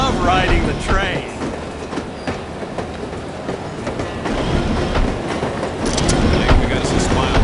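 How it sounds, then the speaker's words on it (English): A train rolls along its rails in the video game The Operative: No One Lives Forever, giving a loud, continuous rumble with clickety-clack wheel beats and brief squeals, and a voice talks over it. "I love riding the train."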